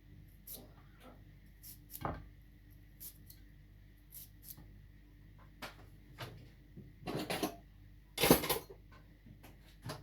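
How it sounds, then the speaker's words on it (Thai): Knife slicing fruit on a cutting board, several sharp irregular cuts with light clatter of kitchen utensils, a louder burst of chopping near the end. "ลูกลามมงบุญใช้ไม่เยอะนะคะ ก็จะใช้วิธีหั่นแบบนี้เอาเนาะ"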